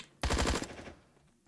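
A sawn-off shotgun fires in a Wild West town video game, one loud, sharp burst of rapid cracks lasting under half a second, then a short decaying tail.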